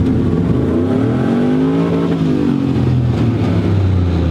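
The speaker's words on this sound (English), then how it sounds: "Just seeing how high I can rev it." A Jeep Comanche engine revving hard on a dyno, a loud sustained drone whose pitch climbs and sweeps up and down through the revs, close and continuous.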